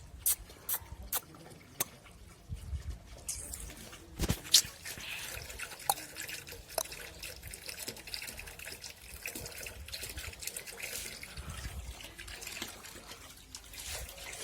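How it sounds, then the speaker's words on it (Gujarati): Water runs from a household tap into a container, a faint, steady trickle with scattered small drips and clicks. A voice is heard only faintly in the background. "પાણી ભરાઈ ગયું"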